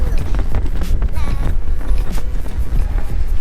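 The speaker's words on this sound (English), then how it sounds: "it really is so windy out here" Strong wind gusts buffet the microphone on the open deck of the Symphony of the Seas cruise ship, a loud, rough rumble that nearly drowns out a person talking close by.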